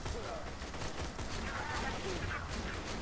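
Enemy gunfire in Borderlands 2 rattles in continuous overlapping bursts, a dense wash of shots under a player's voice.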